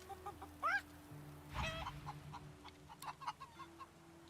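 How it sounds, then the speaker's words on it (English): Chickens in the video game Divinity: Original Sin 2 cluck in a scattered series of short, soft calls over quiet ambient background, with one louder squawk near the start. "Hey, chickens."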